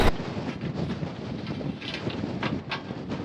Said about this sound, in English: it is quite windy now